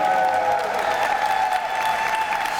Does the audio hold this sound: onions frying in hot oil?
no